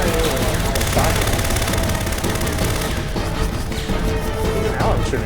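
Steady gunfire from the Xenosaga Episode I game on PS2 rattles in a continuous close stream beneath music and a voice, with occasional sharper hits.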